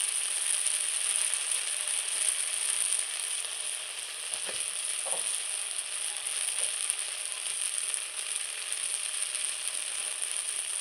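Spice paste sizzling in oil in a pan for oil koi fish curry, a steady, fairly close hiss throughout with a couple of faint stirring clicks.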